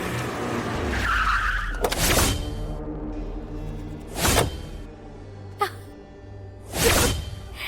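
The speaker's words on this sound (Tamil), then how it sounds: "அண்ணனோட கார் சத்தம் கேக்குது" A car pulls up outside a house with a short tire squeal and a skidding rush. Several sharp whooshing passes and brief thumps follow, moderately close.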